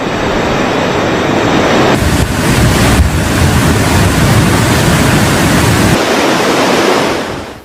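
Floodwater from heavy rain rushes loudly and continuously around a submerged house, a dense, roaring wash close to the microphone with no voices.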